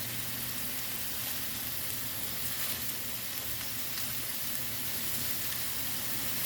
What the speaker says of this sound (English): So just getting a sear on them.